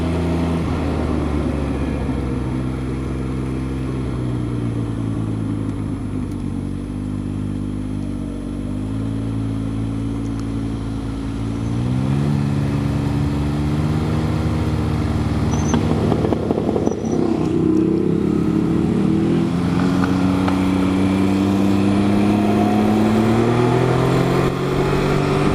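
An exotic sports car engine revs and builds as it pulls away past an overlook, a loud sustained mechanical roar that climbs in pitch through several gear-like steps, then swells louder and rougher toward the end.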